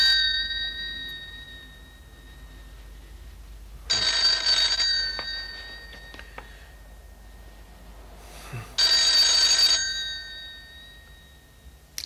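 A telephone rings in an indoor scene from a crime drama: two bell bursts of about a second each, roughly five seconds apart, over quiet room tone with a faint steady hum.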